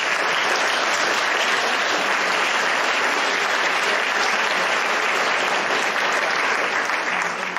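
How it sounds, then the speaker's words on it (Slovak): Loud, sustained applause from an audience at a school arts concert during Advent, steady dense clapping filling the whole stretch with no pauses. "takže obrovský potlesk"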